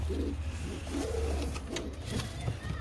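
A miro pigeon defending its two chicks gives low, repeated coos at close range, steady and moderately loud over a faint background hum.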